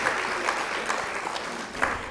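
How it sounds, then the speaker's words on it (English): Sustained applause from a gala awards dinner audience in Baltimore, a steady dense patter of many hands clapping with a few sharper claps standing out, continuous throughout. "Give Claudette another round of applause for this very generous gift she has given us."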